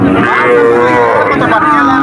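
A calf at the Betaga cattle market moos loudly and continuously, a drawn-out, close bellow that fills the whole moment with little else around it.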